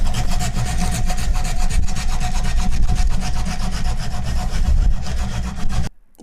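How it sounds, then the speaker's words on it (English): Sandpaper rasping hard and steadily back and forth over a wooden war club, loud and close with rapid repeated strokes, stopping abruptly near the end. "Grab my sandpaper."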